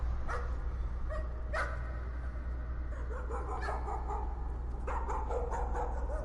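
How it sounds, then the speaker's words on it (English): A dog barks a few times at a distance, short sharp yelps scattered over a steady low background hum in a spooky game scene. "Is that a dog I hear?"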